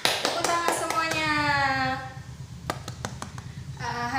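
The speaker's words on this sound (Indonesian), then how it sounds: "Tepuk tangan semuanya." Children in a primary school classroom clap their hands in a short rhythmic burst of sharp claps, while young voices chant and talk over and between them.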